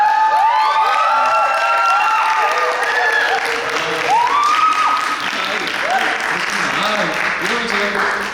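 Book-talk audience of about fifty at an essayist's author event cheering and shouting, rising and falling whoops and squeals over a bed of clapping, lively and close throughout.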